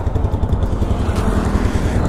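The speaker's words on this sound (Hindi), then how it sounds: "तो finally we decided we are towing the bike, एक रस्सी मिल गया।" A motorcycle on a highway ride runs close and loud with a steady, throbbing engine drone while towing a dead bike by rope, wind buffeting the microphone and no talking.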